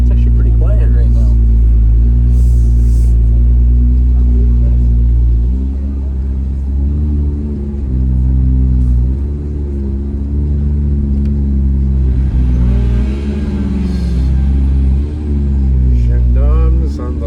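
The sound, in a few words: Lamborghini Aventador engine revving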